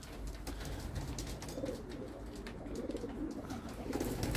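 Homing pigeons cooing in a loft, low soft throaty coos rolling continuously and close, with scattered rustles and light background noise.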